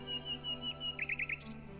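Sparrows at a bird feeder stocked with lard give a quick run of small, high chirps, first spaced out and then in a tight cluster of four, faint over a steady tonal background.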